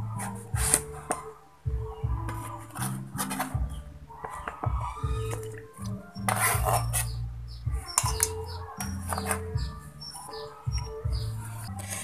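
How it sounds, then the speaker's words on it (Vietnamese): Cut eggplant is handled and dropped into a basin of salt water in a kitchen, with soft splashes, clinks against the basin and scattered clatter that continue steadily at close range. "các bạn sẽ cho phần cà tím này vào trong một cái thau nước muối mà chúng ta đã chuẩn bị sẵn"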